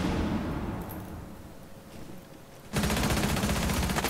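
Sustained automatic gunfire in a first-person shooter match, a dense crackling burst that grows suddenly louder and steady near the end, with no talk over it.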